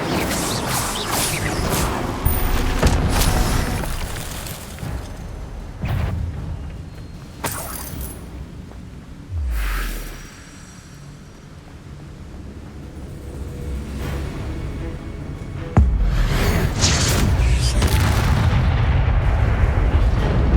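Spellcasting in the Hogwarts Legacy video game, a rapid string of loud blasts, cracks and whooshing bursts with short lulls between, ending in a dense flurry of impacts.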